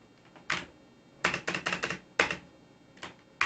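Someone types C code on a computer keyboard in short bursts of rapid key clicks separated by brief pauses, with isolated single keystrokes between them, close and clear with no talk.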